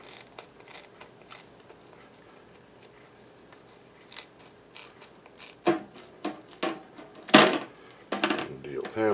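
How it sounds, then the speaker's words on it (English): Kitchen shears snip through stiff, leathery dried meat broth: soft scattered cuts at first, then a run of louder, sharper crunching snips close by, with a voice talking at the start. "So you just cut this up with a pair of kitchen shears."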